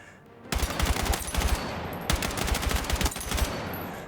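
A rapid-fire weapon in Battlefield 6 shooting in loud, dense automatic bursts with a brief pause between two long strings of shots, close and dominant with no voices.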